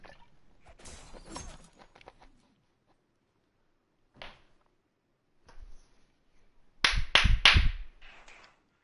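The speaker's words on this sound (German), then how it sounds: "Es wird geklatscht." Sharp clapping bursts from a Destiny 2 raid, a few scattered claps early then a loud close cluster of quick slaps near the end, with silent gaps between.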